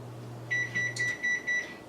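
Kitchen oven chiming when preheated and ready for a walnut cake, a run of about six short, bright electronic beeps in an uneven rhythm, heard close over a faint low hum.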